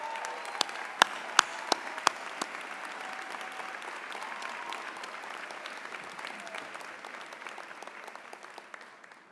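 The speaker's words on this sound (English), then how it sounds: "let's give them a round of applause also" Steady audience applause for staff members standing at a university arts commencement ceremony, a dense sustained clapping from a large indoor crowd with a few sharp nearby claps early on, gradually thinning toward the end.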